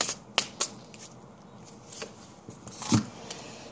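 Romance Angel Oracle cards being shuffled for a reading, a few close, soft riffles and card taps scattered across a few seconds, with no talk.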